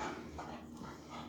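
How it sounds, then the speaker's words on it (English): A dog whimpers and whines continuously at close range, a steady plaintive sound with no speech over it. "Sorry, that was my dog."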